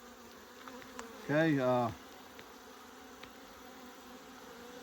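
Agitated bees swarm inside a hive during pest control, a faint, steady buzzing drone throughout, briefly interrupted by a short spoken remark.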